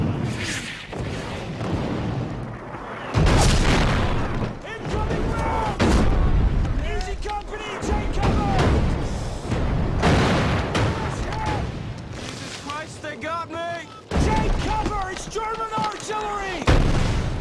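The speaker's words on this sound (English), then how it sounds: "Jake Cover, it's German artillery!" German artillery shells bursting during a World War II battle scene, heavy booms and blasts one after another, loud and close amid shouting voices and battle noise.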